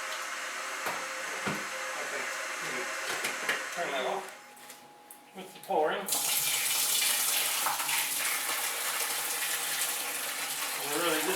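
Boiling water from kettles pouring into buckets for a beer fermenter, a steady hissing gush interrupted by a brief pause, then a louder continuous pour with voices talking over it.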